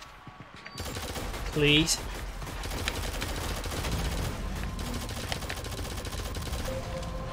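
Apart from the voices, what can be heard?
gunfire in video game Shadowgun Legends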